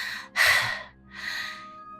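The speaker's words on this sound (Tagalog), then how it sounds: "Grabe ang hingal na nararamdaman ko ngayon Para akong mapuputulan ng paghinga." Two heavy breaths, a sharp gasping inhale followed by a longer ragged exhale, sounding close and loud and standing alone without speech.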